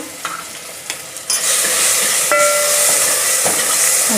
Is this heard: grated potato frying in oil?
yes